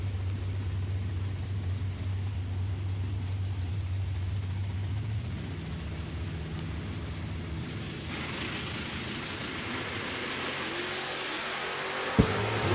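At a drag race, a 1966 Chevelle and a Nova run with a distant, droning engine tone that shifts partway through into a broader rising roar, ending with a sharp click.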